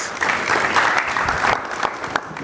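An audience at a business and investment forum in New York applauds, a dense, loud burst of clapping that rises quickly and tapers off over a couple of seconds.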